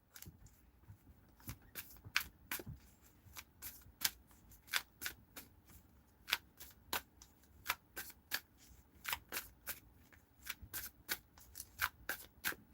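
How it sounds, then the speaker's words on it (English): Tarot cards shuffled by hand, a long run of sharp, quick riffling flicks in irregular bursts, close and fairly quiet, with no talking. "Why can't I shuffle today?"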